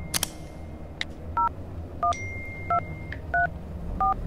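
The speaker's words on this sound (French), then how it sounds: "J'appelle Verity pour lui en parler" A phone number being dialed on a keypad, sounding as six short evenly spaced DTMF tone beeps, clear and close over a low background hum, with a few clicks at the start.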